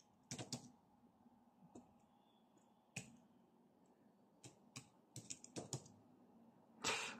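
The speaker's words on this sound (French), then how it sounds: "Je vais sur Word. Donc là, ça a tout son sens hein, quand euh, sur une tablette, parce que là, on peut écrire" Irregular key taps on a foldable Bluetooth keyboard, a LAB31 model, used with a tablet, come in sparse bursts of clicks with pauses between them, close and fairly quiet, with no talking.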